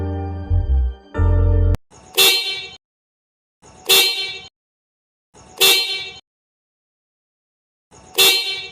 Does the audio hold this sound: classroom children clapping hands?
no